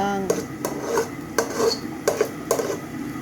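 Garlic and ginger being stirred in a cooking pan, a spatula scraping and clinking against the metal in several distinct strokes with a soft sizzle beneath, close and alone.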